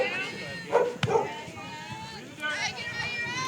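At a high school softball game, a dog barks twice in quick succession, clear and fairly close, followed by softer yips, over a faint murmur of crowd chatter.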